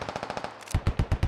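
Gunfire in the Squad military shooter game: quick bursts of automatic fire, faint and distant at first, then a closer, heavier volley of punchy rhythmic shots, with no voices over it.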